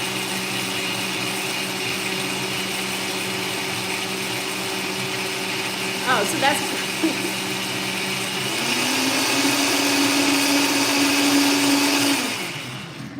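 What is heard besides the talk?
blender running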